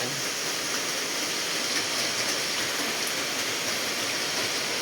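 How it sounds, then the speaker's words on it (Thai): Heavy, steady rain keeps people stuck in place while travelling, a dense continuous hiss of downpour with no pauses, close and fairly loud throughout. "ติดฝนอยู่เนาะไปไหนไม่ได้แล้วก็ต้องรอให้ฝนหยุดก่อน"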